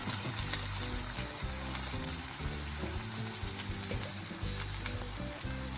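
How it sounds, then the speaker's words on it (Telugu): Thinly sliced onion frying in two ladles of oil in a kadai, a close, continuous crackling sizzle with occasional spatters and stirring scrapes, alone without voices. "ఇప్పుడు ఒక ఉల్లిపాయ సన్నగా కట్ చేసుకుని ఆ ఉల్లిపాయను వేయించుకుందాం"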